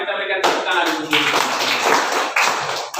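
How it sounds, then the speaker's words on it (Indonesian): A classroom of children clapping their hands together, a dense, sustained burst of applause that starts after a brief voice and carries on to the end, close and loud. "Mari kita berikan tepuk tangan dulu."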